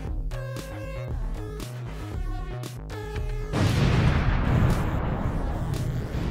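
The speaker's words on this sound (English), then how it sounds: "You like the explosion sound it comes with?" A video-editing explosion sound effect: a stretch of rhythmic musical hits gives way to a loud, close blast with a long rumbling, crackling roar that keeps going to the end.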